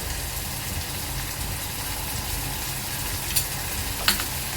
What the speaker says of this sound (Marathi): तर हे 3 ते 4 मिनिटं चांगलं तेलामध्ये अद्रक लसूणची पेस्ट शिजवून घ्यायची आहे।